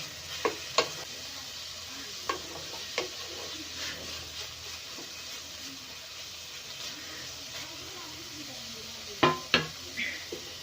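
Noodles with cabbage stir-fried on high flame, a soft steady sizzle under sharp scraping clicks of a spatula against the pan, with a cluster of louder knocks near the end.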